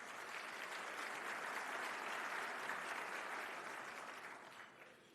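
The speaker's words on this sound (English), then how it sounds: "We'll give these guys a round of applause." An audience applauds at a Rutherford County Chamber of Commerce business awards event, dense steady clapping from many hands that swells and then tapers off toward the end, heard at a moderate distance.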